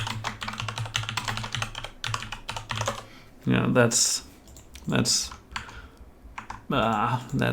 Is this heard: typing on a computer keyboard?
yes